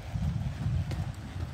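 A buckskin quarter horse mare with tender, unshod feet jogs along, her hooves clip-clopping in a steady, close rhythm over a low rumbling background.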